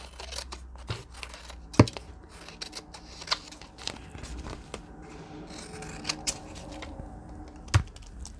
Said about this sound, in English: It's time for the scissors.